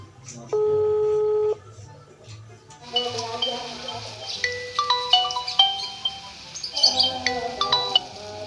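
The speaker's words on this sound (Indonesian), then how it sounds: "Coba telepon si Atun ah." Phone dialing while calling a friend to ask about a gas cylinder: a steady tone for about a second, then electronic beeping and ringing tones over background music in an Indonesian village comedy.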